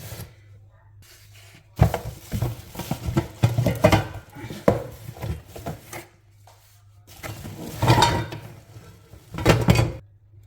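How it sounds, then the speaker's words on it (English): Three new cooking pots with lids, suited to induction hobs, being unpacked, giving intermittent clanks, knocks and rustles in several bursts, close by, with no talk. "So this is 3 pots with their lid."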